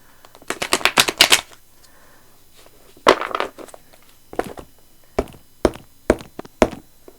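A deck of cards is shuffled by hand in a few bursts: a rapid riffling flutter, a pause, another riffle, then several sharp separate taps as cards are squared and set down.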